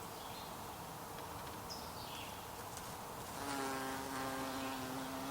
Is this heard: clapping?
no